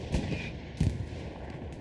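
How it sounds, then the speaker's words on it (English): Distant gunfire from a Hell Let Loose WWII battle, a few muffled shots and booms scattered over a steady background rumble, fairly faint, with no voices. "Nice gunplay from SEVH, though, taking out a few."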